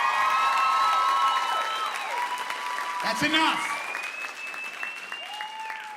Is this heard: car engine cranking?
no